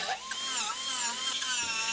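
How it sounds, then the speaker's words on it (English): A ball grinder carving small scalloped texture into the background of a wooden sign, a close, steady high-pitched whine with slight wavering pitch as the bit bites into the wood. "I go in with a ball grinder and I begin grinding out little scallops out of the area of the background."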